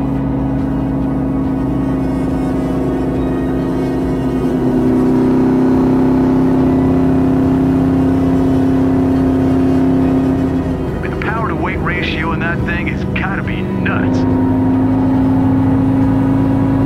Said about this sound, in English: Like Greg Carnforth's LS Swap Volvo.